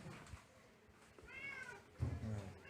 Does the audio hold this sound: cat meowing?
yes